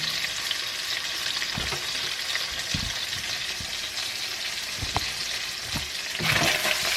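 Onions sizzle and sauté in a hot pan with browned sausage, giving a steady close frying hiss broken by a few soft stirring knocks, with no talking.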